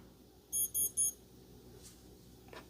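A Freestyle digital watch alarm gives three short, evenly spaced high-pitched beeps, clear and close, followed by faint handling sounds.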